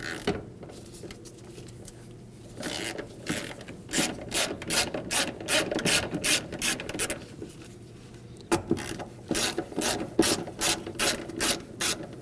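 Ratchet wrench removing 8mm nuts from studs on the fuel pump ring of a 2013-2015 Subaru XV Crosstrek 2.0L H4, repeated close clicking ratchet strokes in rhythmic bursts with brief pauses.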